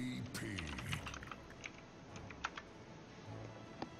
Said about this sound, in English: let me type to my teammate